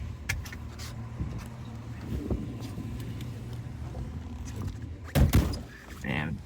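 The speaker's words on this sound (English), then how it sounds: "Man, the door shuts so nice too." A classic 1965 Ford Mustang coupe door shuts with a solid thud near the end, heard up close over a steady idling-car hum with faint rustling and small clicks before it.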